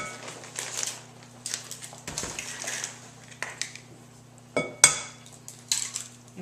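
Eggs cracked into a mixing bowl while making soft granola bars in a home kitchen, heard as a few sharp clinks and taps against the bowl among utensil and dish clatter, with brief quiet voices in the background.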